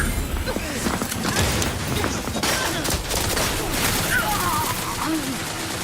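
Rapid bursts of gunfire in the video game Outer Worlds 2, a dense crackle of shots running throughout at moderate distance, with a player's voice mixed in.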